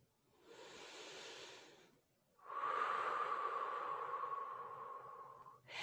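Two long, heavy breaths taken during a yoga stretch for tight hamstrings. The first is a softer inhale and the second a fuller, sustained exhale, close and alone with no talk.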